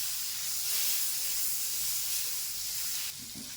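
Butter hits a hot pan and sizzles with a loud, steady hiss that drops off slightly near the end, with no voices.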